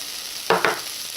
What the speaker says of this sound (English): I'm just going to add the spices